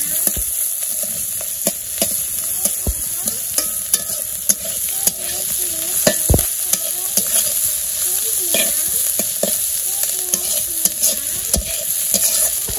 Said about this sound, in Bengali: এই যে মাছ ভাজায় পেঁয়াজ দিয়ে দিলাম,